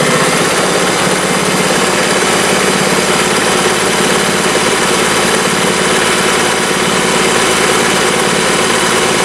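A vintage Singer 401A sewing machine runs continuously while sewing a dense decorative satin stitch, giving a loud, steady mechanical hum and rapid needle chatter with no pauses and no speech.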